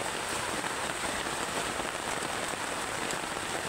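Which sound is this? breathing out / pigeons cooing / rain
rain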